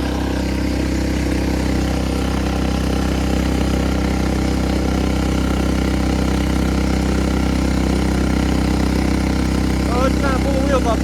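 A 1970s lawn mower engine, driven off-road up a hill, drones loudly and steadily close by with a constant low hum and no letup.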